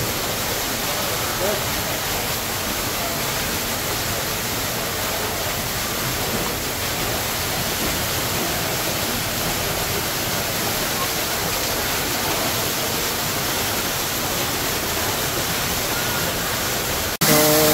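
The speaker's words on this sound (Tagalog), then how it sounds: "They create a man-made falls." Man-made waterfall at the Central Park Zoo, a constant broad rush of falling water that stays loud and unbroken throughout, with no pauses until a brief cut at the very end.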